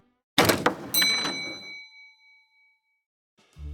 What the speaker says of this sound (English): The bell on the front door rang, signaling that some pony had entered her boutique.